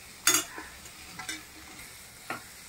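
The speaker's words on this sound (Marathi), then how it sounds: "हे बघा मी इथे शिमला मिरचीची भाजी करते।" Capsicum (shimla mirch) vegetable stirred in a frying pan at home, soft scraping stirs and light sizzle in a few brief bursts, fairly quiet and close.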